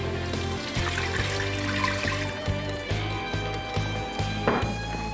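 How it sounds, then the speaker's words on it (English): Water poured into a hot pot of frying crayfish for seafood okra makes a close, continuous splashing trickle, with a few clinks near the end. "Then I'll go ahead and add some water."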